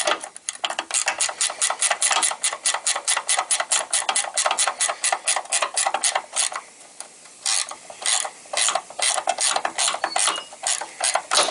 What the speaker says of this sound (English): So I'm just going to get in here with a ratchet wrench.